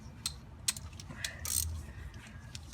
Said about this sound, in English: Put a ratchet here, and not crazy tight.